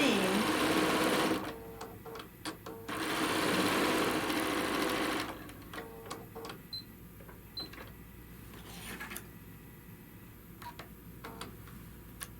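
A sewing machine stitching quilt blocks together with a 1/4 inch seam runs in two fast, buzzing bursts, then falls to quieter clicks and fabric handling nearby.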